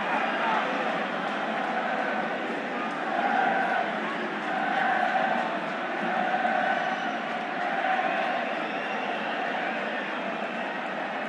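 A packed football stadium crowd at a Barcelona versus Atlético Madrid match roars steadily throughout, swelling into louder cheering surges every couple of seconds, with a dense wash of distant voices and no single voice standing out.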